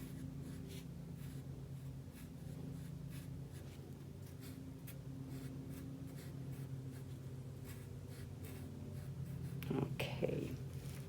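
Pen drawing designs on a bug's wings during a kindergarten directed drawing lesson: steady close scratching and scribbling strokes in quick repeated bursts, with a brief louder rustle near the end.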